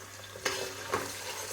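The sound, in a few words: onions, potato and carrot frying in oil, stirred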